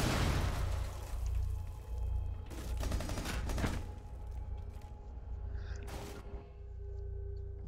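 Bursts of gunfire in Rainbow Six Siege, rapid rattling volleys with sharp cracks scattered over a steady background hum.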